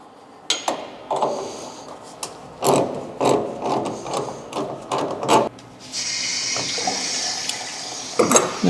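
Hose being removed from a laundromat washing machine: a run of clicking, ratcheting clanks from the fitting, followed by a steady hiss of running water near the end, with no talking.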